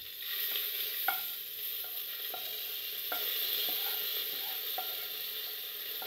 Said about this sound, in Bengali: শুকনো লঙ্কা, ফোড়ন ভাজা ভাজা হয়ে গেছে, ভিজানো ডালটা আমি দিয়ে দিচ্ছি